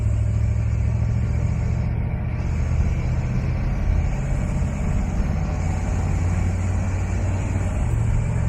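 A loud, deep 1968 Chevrolet Corvette Convertible engine idles steadily nearby, a continuous throaty rumble with no talking.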